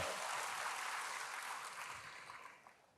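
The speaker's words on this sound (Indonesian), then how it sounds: "Berikan tepuk tangan hebat bagi Tuhan." A church congregation applauds, a broad, even wash of clapping that stays fairly faint and fades out toward the end.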